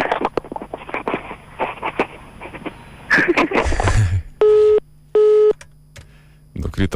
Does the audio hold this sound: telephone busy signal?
yes